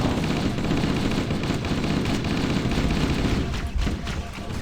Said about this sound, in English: There's so many bullet weapons flying around, you don't have time to get your shields back